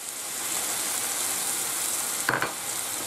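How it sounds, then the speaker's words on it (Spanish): Steady sizzling from a hot pan as garlic is added to sautéed ham and white wine and stirred, with a brief scrape or clatter near the end. "Echamos el ajo"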